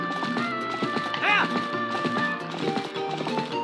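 Goats' hooves clattering as they run in the video game Zelda: Twilight Princess, a quick irregular clip-clop of several steps amid game music, with a bleating call briefly rising in the middle.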